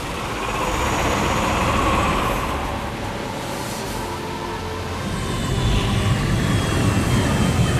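Continuous whirring engine-like hum of a drone flying in the video game Marvel Future Revolution, steady and moderately loud, swelling slightly toward the end with no voices.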